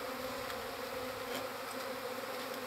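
A disturbed swarm of honeybees from a secondary swarm with a single queen hums in a loud, continuous, dense buzz that stays steady throughout, with no talking.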